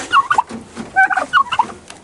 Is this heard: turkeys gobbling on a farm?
yes